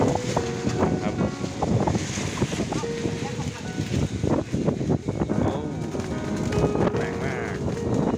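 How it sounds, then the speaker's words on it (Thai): Strong wind gusts buffet the microphone at a tent campsite, making a loud, constant roar, while people talk and call out over it and a few clanks sound now and then. "ลมแรงนิดนึง"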